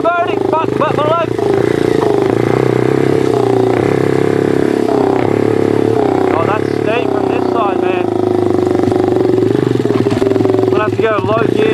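A pit bike engine drones loudly and steadily while riding mountain bike trails, its pitch rising and falling slightly with throttle, with occasional clatter. Voices talk over the engine noise.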